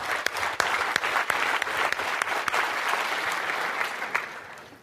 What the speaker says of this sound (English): Give him a round of applause, you guys.